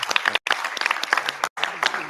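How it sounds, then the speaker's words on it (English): A conference audience applauds the organizers at an AI conference while a voice talks over the clapping, with two brief silent gaps in the sound. "Big round of applause for them"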